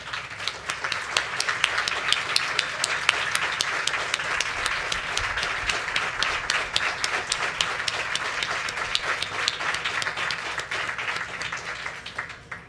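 A large gala audience gives hospital staff a round of applause, sustained, moderately loud clapping with a busy rhythmic texture that carries on steadily before easing slightly at the end.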